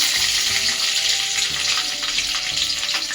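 Green chillies slit open are dropped into hot oil with ginger paste for Indian-style chilli paneer, giving a loud, steady close-up sizzle and crackle that continues without pause and without any talk.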